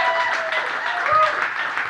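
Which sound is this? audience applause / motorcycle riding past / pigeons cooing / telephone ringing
audience applause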